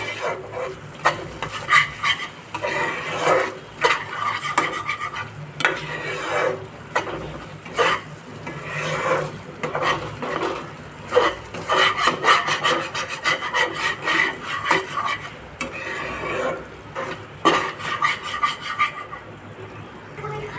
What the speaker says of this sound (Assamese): এইখিনি আৰু অলপ সময় ভালদৰে ভাজি ল'ম।